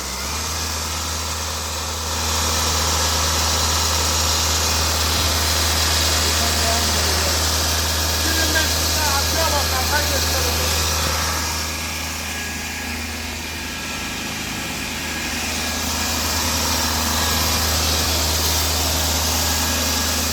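A diesel car engine idles steadily during an EGR and intake cleaning, rising briefly as the throttle is pressed, with a low continuous rumble and faint voices in the background.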